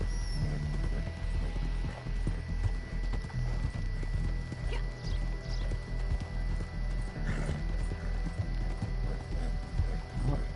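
Horse hooves clip-clopping during a ride in Red Dead Redemption Online, a steady, even rhythm of hoofbeats with occasional whinnies over a low in-game background, with no talk.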